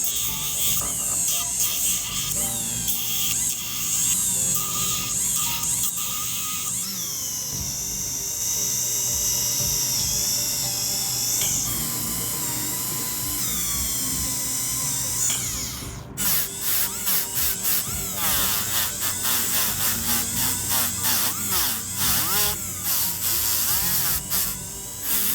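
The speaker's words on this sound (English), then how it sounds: "just go over this with a little bit of the pneumatic hammer here on each prong" A jeweller works a pneumatic hammer over the prongs of a 3 carat cushion cut diamond engagement ring, setting each one down; a dense, high-pitched buzzing hum runs continuously with rapid tapping pulses and shifting pitch, close and loud.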